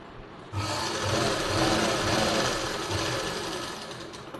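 A sewing machine stitching the zip on a blouse lining, starting after a brief pause into a steady, close, dense mechanical whir that runs on and slowly eases off.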